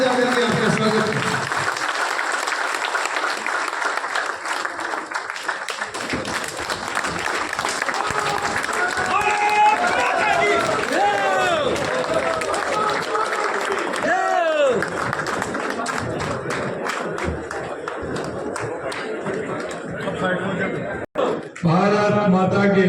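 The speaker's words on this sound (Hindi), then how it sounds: "हम लोग तालियां बजा करके आपका स्वागत करें" A crowd at a BJP district working committee meeting in Nagaur breaks into sustained, dense applause to welcome the chief minister, a loud, steady wash of clapping with voices mixed in that runs almost to the end.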